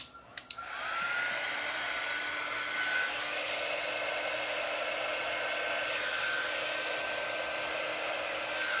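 Hair dryer blowing steadily on a gingerbread kit's transfer paste, starting after a couple of clicks and then running as a constant close-up whoosh with a faint whine for the rest of the clip.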